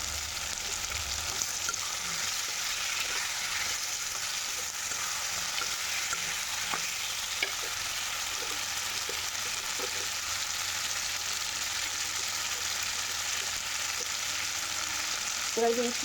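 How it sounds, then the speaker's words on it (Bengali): Pointed gourd and drumsticks sautéing with tomato and turmeric in a pan, a steady low sizzle running throughout with a few faint stirring taps. "পটল এবং ডাটা কষাতে থাকি"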